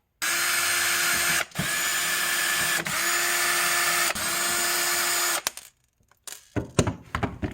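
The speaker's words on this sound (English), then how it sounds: "So, get these 4 screws out, and I think we should be able to slide the whole thing out now." A power drill whirs steadily in several long bursts while backing out screws from the power supply of an Alienware R10 Ryzen Edition desktop, followed by a few quieter clicks and handling knocks.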